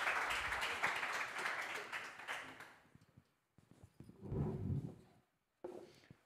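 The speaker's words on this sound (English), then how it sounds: "applause." Warm applause from a summit audience welcoming a panel, dense clapping filling the first few seconds then thinning, with a brief later burst and a short final flurry after gaps.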